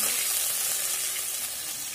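Ginger paste sizzles in a pan after a little water is added for a Bengali cauliflower dish, giving a steady, bright hiss that holds for the whole stretch without pause.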